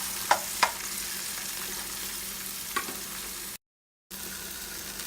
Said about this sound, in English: you want to let it fry a little bit, the green onions and the white onions, you let it fry